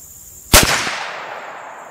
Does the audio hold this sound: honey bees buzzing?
no